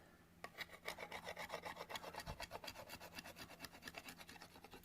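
A pocket knife scrapes and sands a small piece of wood found on a camping trip, giving a steady run of rhythmic rasping strokes, close and fairly quiet, with no talking.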